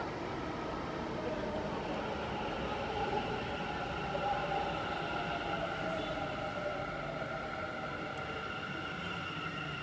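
Metro train at a station, a steady broad rumble with sustained tonal whine holding evenly throughout, fairly loud and continuous.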